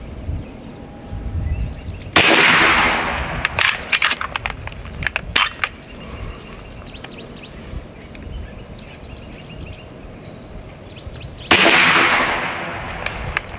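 An AEA HP MAX 457 big bore airgun fires slugs, giving two sharp, loud cracks about nine seconds apart, with faint clicks and handling noises between shots and no talking.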